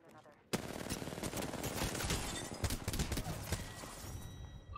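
Rapid gunfire from a G7 Scout rifle in Apex Legends, a loud dense burst of shots that starts abruptly after a brief quiet moment and continues in a busy, crackling stream with some overlapping game sounds.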